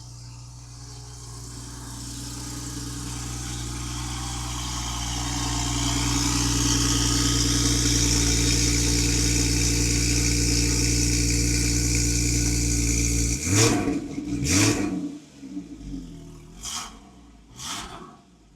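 A 2015 Porsche Boxster 981 flat-six idles steadily up close, its low hum rising slightly in level partway through, then broken by several short, louder bursts of handling noise near the end.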